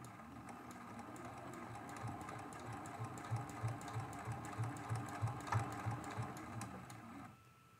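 Sewing machine doing free motion quilting, a steady rapid mechanical stitching hum that quickens slightly midway, close and continuous before stopping near the end.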